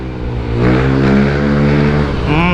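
Motor engines rev and drone in rush hour traffic, a close, loud mechanical hum that rises and falls as a vehicle accelerates, with a passing whine near the end.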